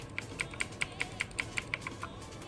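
Keys pressed on a NUBWO Ultimate NK60 mechanical RGB keyboard: about ten crisp, evenly spaced clicks in a steady rhythm. The clicks are close and fairly quiet over a faint background hiss, with no voices.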